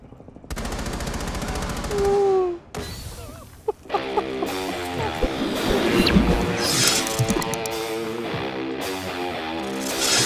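Rapid bursts of automatic gunfire crack and rattle during a Rainbow Six Siege breaching match, with loud, dense volleys and a few single shots over a busy in-game din.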